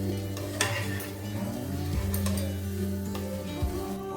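Crispy potato bites frying in hot oil, a continuous sizzle and crackle mixed with stirring and scraping of a pan, close and fairly loud.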